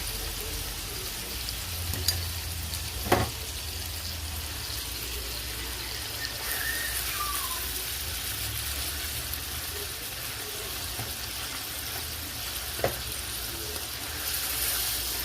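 Ground beef with spice mix for shepherd's pie browns in a pan, giving a steady sizzle with a few utensil clinks and scrapes throughout.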